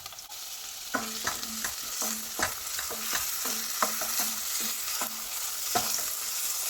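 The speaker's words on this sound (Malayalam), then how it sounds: "അതുകൂടി ഇട്ട് കൊടുത്ത് ഒന്ന് ഇളക്കി കൊടുക്കാം" Pieces of malan fish and tomato stirred in a hot pan for a Kerala-style chilli fish curry: repeated rhythmic spoon scrapes against the pan over a constant soft sizzle.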